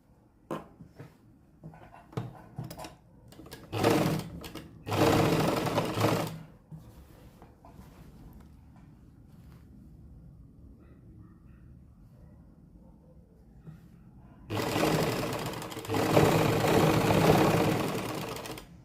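Sewing machine stitching cloth while a garment is cut and sewn, running in short bursts early on and then a longer, louder run near the end, with quiet pauses in between.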